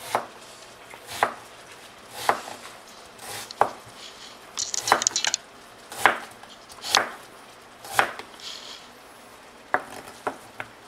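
Knife chopping an onion on a cutting board for steaks in a home kitchen, about a dozen crisp close cuts at a slow uneven pace, with a brief flurry of quicker strokes midway and no talk.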